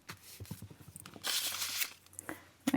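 Washi tape being torn by hand for a journaling spread, a brief close crinkly rip after a few light taps and handling noises, quiet and without talk.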